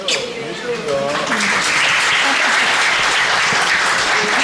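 An audience at a Spiritist gathering bursts into loud, dense applause after a voice trails off, the clapping building quickly and continuing strongly to the end.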